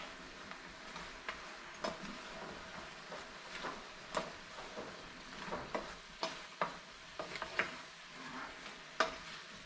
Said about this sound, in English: so just keep stirring as she continues to cook